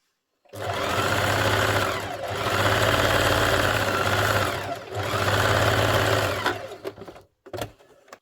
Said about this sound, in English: then that gets sewn onto the pocket